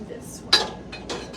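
Metal cooking pans clink and clatter faintly as they are picked out of a kitchen cupboard, one sharp clank followed by softer scraping knocks.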